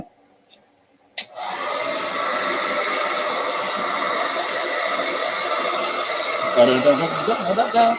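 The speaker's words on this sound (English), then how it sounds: "I'm just gonna blow dry this." A handheld hair dryer switches on after a second of near silence and blows steadily at close range, a loud, even whoosh with slight wavering near the end and faint speech in the background.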